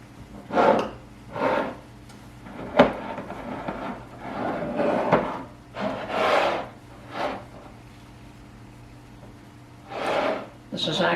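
Rims of canning jars holding raw-packed chicken are wiped clean, a series of short rubbing strokes in a loose rhythm with pauses between them.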